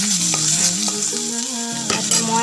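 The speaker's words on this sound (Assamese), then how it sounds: "এয়া মই ইয়াতে পাঁচফোৰণ অকণমান দি দিছোঁ, তাতে মই অকণমান পিঁয়াজ দি দিছোঁ" Onion and five-spice (panch phoron) frying in oil in a wok, heard as a loud, close sizzle with stirring scrapes and occasional clinks, plus a faint tonal hum underneath, and no talking.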